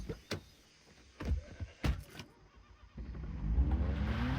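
An old car that still runs, in the video game Far Cry 3: several sharp door or mechanical clunks, then a low engine rumble that starts up and keeps running, fairly quiet and with no talk.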